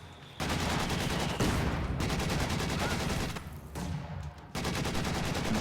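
Bursts of rapid gunfire and heavier mortar blasts fill a video game battle, dense, loud volleys coming in several waves separated by brief lulls.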